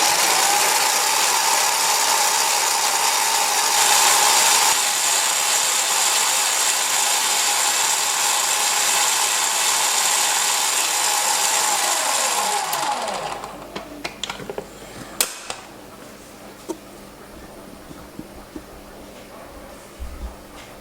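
Electric mixer whisk beating egg whites and sugar for lemon meringue pie, a loud steady whirring drone for about thirteen seconds that then cuts out, followed by quieter clicks and clatter.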